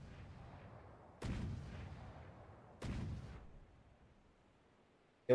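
Two loud shell shots boom in the From the Depths video game, each a sharp blast followed by a rumbling decay, spaced about a second and a half apart, with a brief sharp sound at the very end.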